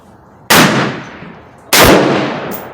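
Two loud, close rifle shots from a Thompson Center Compass hunting rifle ring out about a second apart at an outdoor range, each with a sharp crack and a decaying echo.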